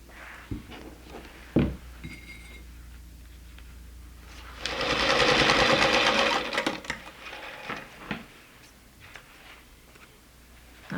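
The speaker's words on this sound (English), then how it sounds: "We will pin, and we will sew a 1/4 inch seam all the way down." A sewing machine stitches a 1/4 inch seam down pinned fabric in a short steady whirring burst, bracketed by quiet handling clicks and thumps nearby.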